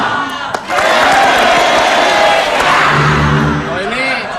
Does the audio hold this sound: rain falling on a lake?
no